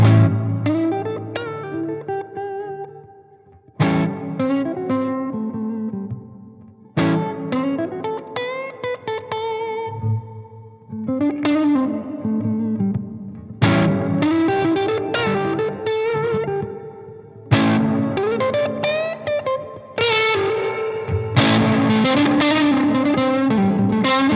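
A heavily distorted electric guitar plays chords and riffs through an Ampete amp with gain and boost, repeated in several bursts with brief pauses between them.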